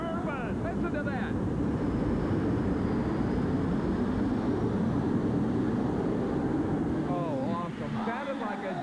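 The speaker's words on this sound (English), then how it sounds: "Sounded like a jet plane coming in." Art Arfons' twin-turbine jet dragster roars down the track at a 1989 tractor-pull and monster-truck event, a loud sustained jet whine under an excited commentator's voice.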